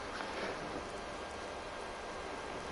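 Steady broadband rain hiss from the Stranger of Paradise Final Fantasy Origin video game, even and soft at low level, with no voices over it.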